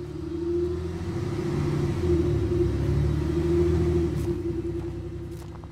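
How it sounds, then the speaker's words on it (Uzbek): A vehicle engine rumbles steadily with a low drone, the revving swelling slightly as it pulls away, continuous and fairly close with no voices. "yura boshlagan avtobus motori ovozidan o'ziga keldi"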